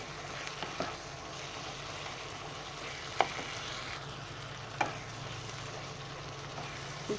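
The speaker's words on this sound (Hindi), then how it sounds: "2 मिनट के लिए फ्राई कर रहे हैं ताकि मिर्चों का जो कच्चापन है वो ख़त्म हो जाए" Green chillies fry in a pan for an egg keema (khagina) dish, giving a steady, moderate sizzle throughout with a few brief sharper pops and utensil taps, no talking.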